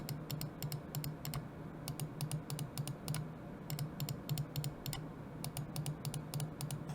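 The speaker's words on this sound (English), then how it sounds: "In terms of the side click audio feedback, I'll give you a quick little sound test here." Rapid, crisp clicks from the side buttons of a FANTECH Aria II Pro gaming mouse with standard black-shell white-dot switches, pressed in quick irregular bursts close to the mic over a faint hum.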